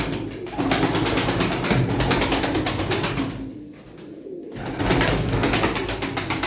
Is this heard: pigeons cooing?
yes